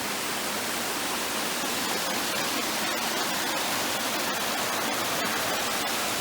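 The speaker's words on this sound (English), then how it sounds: "All right, and we have yet another waterfall there." A forest waterfall rushes in a constant, dense hiss of falling water, steady and fairly loud throughout with no other sounds on top.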